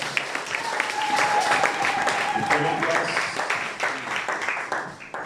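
Congregation at a French-language church service applauding and cheering in praise, a dense sustained wash of clapping with voices mixed in, loud and steady before easing off toward the end.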